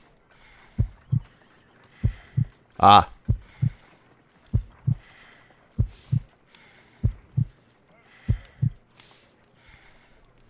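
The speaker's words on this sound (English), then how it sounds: "I need to concentrate and count the heartbeats." Slow, steady heartbeat from the game Sherlock Holmes: Crimes & Punishments, paired low thumps repeating about every second and a quarter with a faint background hum; a voice briefly speaks partway through.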